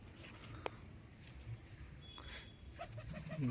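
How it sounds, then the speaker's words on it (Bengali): Biscuit pigeons coo softly and at a distance, with a few faint throaty calls toward the end over a quiet, low background hum. "বিস্কুট পায়রাটা চলে এসেছে"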